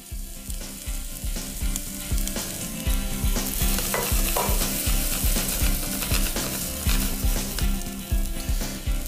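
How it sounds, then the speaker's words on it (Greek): Onions and chickpeas sautéing together in a pan make a loud, continuous sizzle with sharp crackles, over a regular rhythmic thumping that runs steadily underneath throughout. "σοτάρισμα τα κρεμμύδια και πριν μαλακώσουν, ρίχνω και τα ρεβίθια"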